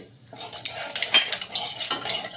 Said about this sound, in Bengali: ওই তেলের ভিতরে আমি একে একে দিয়ে দেব কালো জিরে